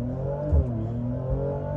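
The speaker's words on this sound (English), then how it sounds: "Gonna begin my reaction of being the passenger of the AMG launch." A Mercedes C43 AMG launches hard from a standstill, its engine a loud, steady roar with a low rumbling drone throughout.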